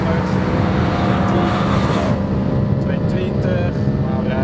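A BMW M3 Coupé E92 travels at high speed on a German autobahn, a constant loud roar of engine, tyres and wind heard from inside the car, with no break in the noise.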